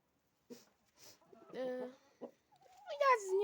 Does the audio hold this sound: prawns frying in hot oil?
no